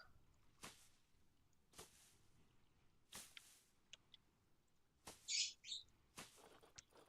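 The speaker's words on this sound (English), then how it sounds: "I can hear my birds, they're so cute." Short, high bird chirps and tweets from a Planet Zoo game zoo pop up sporadically over a quiet background, with a brief bright trill near the end.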